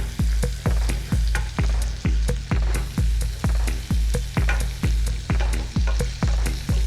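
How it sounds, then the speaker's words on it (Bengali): Turmeric-and-salt-coated potatoes fry in a pan over a high gas flame, a loud close sizzle broken by regular, evenly spaced stirring strokes about twice a second, with no voices. "গ্যাসের ফ্লেমটাকে আমি বাড়িয়ে দিয়েই আলুগুলো ভেজে নিচ্ছি"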